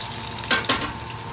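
Finely chopped green tomatoes hit a hot tempering for a green tomato chutney, giving a low frying hiss with two short, louder bursts of stirring and sizzling close by.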